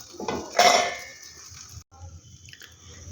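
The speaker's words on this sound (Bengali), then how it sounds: "ঢাকনা দিয়ে দিলাম।" A lid is set onto a cooking pan in a home kitchen while a semolina and egg snack cooks, giving one clear metallic clink followed by quieter rattles and faint sizzling, with no talk.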